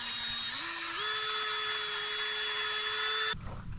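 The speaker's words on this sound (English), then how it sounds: "Now we have to drill all these spots." Electric drill boring holes in a wooden screen-printing frame: one steady high motor whine that climbs in pitch twice early on, holds loud and close, then cuts off sharply, leaving a short rattle.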